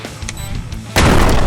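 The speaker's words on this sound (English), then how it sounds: "So now we go and detonate the grenade." Grenade detonation in the MythBusters game, a sudden loud broadband blast that bursts in near the end after a quieter moment and holds to the finish.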